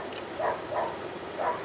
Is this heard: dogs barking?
yes